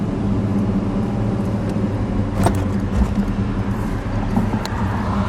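A 1970 Pontiac GTO Judge with a 400 Ram Air V8 and four-speed manual cruises along, its engine a steady low drone inside the car, with a brief change in tone around a gear shift.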